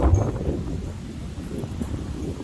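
Gusty outdoor wind buffets the microphone with low rumbling noise over a short stretch, steady and fairly loud throughout.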